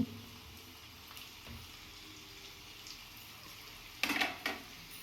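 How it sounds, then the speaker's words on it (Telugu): Onions fry in a pan with a faint, steady sizzling hiss, broken near the end by a couple of brief metallic clatters, with no one talking. "ఉల్లిపాయలు చక్కగా వేగిపోయాయండి"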